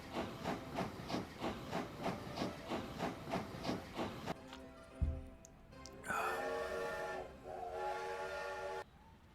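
A steam train from the video game Kim, set in 19th-century colonial India, chuffing in a steady rhythm of regular puffs, then a sharp thump, hissing steam and a long, loud whistle blast.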